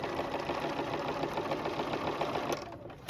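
A sewing machine runs continuously while machine-binding a baby quilt, a steady close mechanical whir for the whole stretch without pauses.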